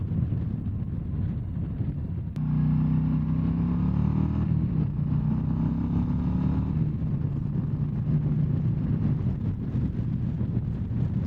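A 2024 Harley-Davidson Low Rider ST with the 117 engine, a deep V-twin rumble that swells under load as the bike pulls away, steady and close amid heavy wind buffeting, with no talking.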